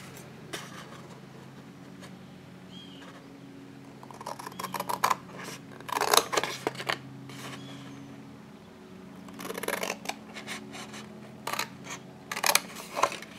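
Small snips cut through cardstock to shape a little box, giving several crisp snipping bursts at irregular intervals, fairly close and fairly quiet.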